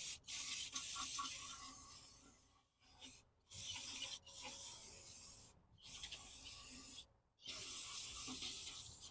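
Repeated hissing spray bursts cleaning a Jeep JK differential cover, each lasting a second or so, with short silent gaps between them, close by.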